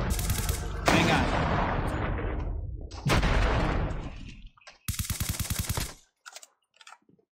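Rapid automatic gunfire from Call of Duty Mobile, loud and close, in several sustained bursts with short gaps and a few trailing single shots.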